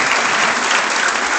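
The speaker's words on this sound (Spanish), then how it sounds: "Nuevamente el aplauso" An auditorium audience claps after a conference talk, a dense, steady burst of applause close by with no break.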